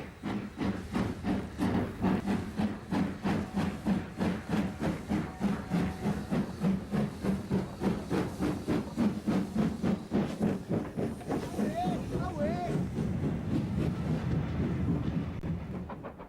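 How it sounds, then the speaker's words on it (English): A steam-hauled excursion train departs Darlington Station bound for Eastgate on the Weardale line, its exhaust chuffing in a steady, gradually quickening rhythm with hiss of steam, fairly close and continuous. "A steam-hauled excursion train departs on its journey to Eastgate"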